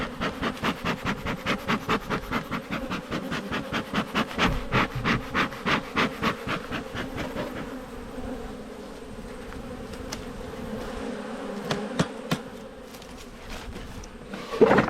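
Honeybees buzz steadily and close at an open hive during an inspection of one of eleven colonies after a tough season, a dense hum with pulsing surges, frames handled occasionally and no talk.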